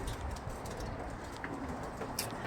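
Racing pigeon chicks coo softly nearby in a quiet outdoor setting at a pigeon race, the low calls faint and intermittent over light background noise.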